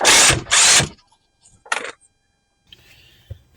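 Ratchet working a nut loose on the engine of a 2005 Honda Pilot 3.5 VTEC during a front seal and timing belt job: two loud bursts of rapid clicking, then a shorter burst, with faint clanks of tools afterward.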